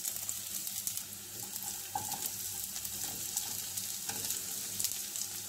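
Garlic fries in hot oil for an eggplant and sardine dish, a continuous crackling sizzle with occasional stirring scrapes, close and steady throughout with no voices.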